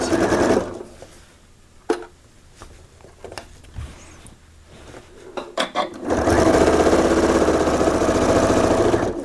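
A sewing machine stitches fabric binding, starting with a short burst, then a few quiet clicks and taps during a pause before a long, loud, steady run of stitching that carries to the end.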